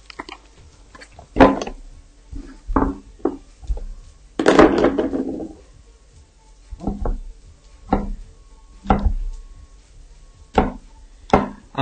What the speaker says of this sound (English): while this is cooking, I will be chopping up my mushrooms